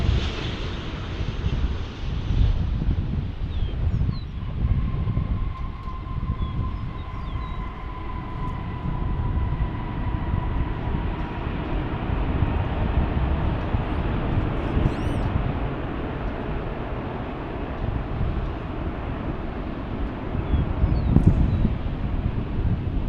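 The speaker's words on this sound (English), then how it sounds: "American Airlines 777 from Dublin, Ireland." An American Airlines Boeing 777 airliner at DFW airport gives a continuous broad roar with wind buffeting the microphone. A faint whining tone fades out partway through.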